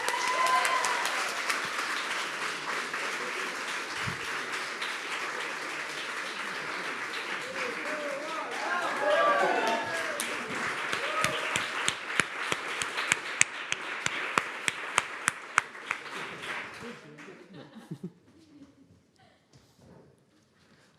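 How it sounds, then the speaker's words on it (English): An audience claps for an award-winning robotics team at a demo day, steady applause that swells, breaks into rhythmic unison clapping, then fades out, with some voices mixed in. "So a big applause to them"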